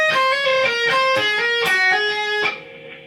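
An electric guitar plays a fast shred phrase, picking and hammering on as it moves down across the strings, a rapid run of bright, clear notes that settles onto a final held note and then fades.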